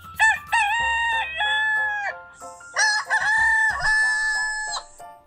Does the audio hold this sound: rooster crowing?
yes